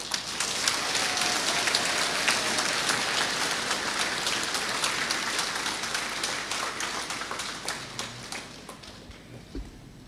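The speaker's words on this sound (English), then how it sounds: "with a big round of applause." A graduation ceremony crowd applauds the new graduates, a dense, sustained clapping that fills the room and slowly tapers off near the end.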